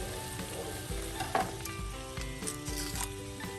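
Butter and garlic sizzling in a frying pan, a continuous soft crackle with a few stirring knocks, fairly quiet and close.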